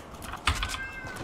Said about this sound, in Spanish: Los gatos, tío, no se calla. Que si miau, que si polla.